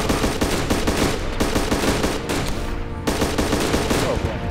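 Sustained automatic gunfire in a video game hammers a vehicle carrying players, rapid clattering impacts loud and close, with a brief pause partway through before the barrage resumes.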